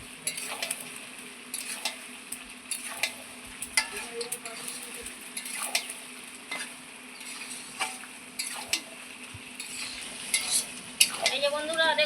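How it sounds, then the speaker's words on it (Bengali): Mutton curry with fried potatoes sautéed and stirred in hot oil in a pan, with a steady close sizzle and repeated scraping and tapping of a spoon against the metal throughout. "এবার ভেজে রাখা আলুটা দিয়ে দেবো, এই আলুটাও খুব সুন্দর করে কষিয়ে নেব।"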